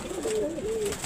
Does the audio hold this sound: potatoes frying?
no